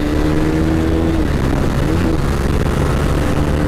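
A 400 cc motorcycle engine revs steadily while being ridden, a loud, close, continuous mid-pitched drone that holds throughout with no talking.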